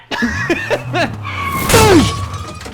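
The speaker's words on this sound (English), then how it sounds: "all I say before our windshield shatters and blows into our faces is, "Oh shit!"" A car windshield shatters while the car is driving far too fast, a sudden loud burst of breaking glass cutting through voices and road noise.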